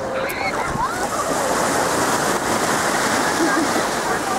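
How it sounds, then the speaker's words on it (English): Big ocean waves break and wash up the beach at Santa Monica, a continuous loud surging roar close by, with a voice faintly heard under the surf. "like this big wave coming right up"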